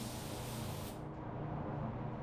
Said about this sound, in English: the PRD 717 having no issues spraying this clear, doing a wonderful job with it